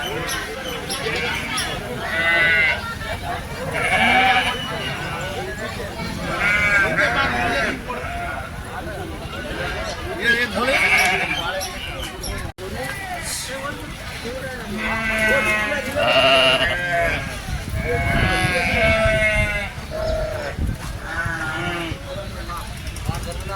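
A crowded livestock market full of sheep and goats, with frequent overlapping bleats rising in bursts, some close and loud, others distant, under steady background chatter and nearby talking.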